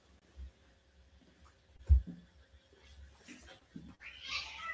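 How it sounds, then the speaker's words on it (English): A pet cat meows and caterwauls faintly at close range in a quiet room, with soft thumps of handling and a brief breathy cry near the end. "My cat was bothering me, so I had to kind of pick her up a little bit"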